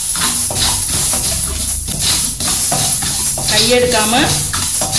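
Fenugreek seeds dry-roast in a pan while being stirred constantly, a loud, close rattle and scrape with light sizzling, as a person speaks briefly over it.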